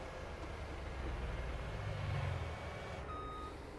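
Tractor reversing beeps in Farming Simulator 19, a steady electronic beeping over the low rumble of the tractor engine, continuous through the clip with a brief tonal change near the end.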